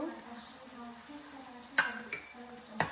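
Onions sizzle softly in a pan while a spoon stirs, with a few sharp clinks of metal against the pan.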